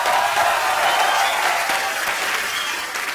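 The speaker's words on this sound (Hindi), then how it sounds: "अक्षय बाजी के लिए जोरदार तालियां हो जाए एक बार" A studio comedy-show audience gives strong, dense applause for a guest, loud and continuous throughout, tapering only slightly toward the end.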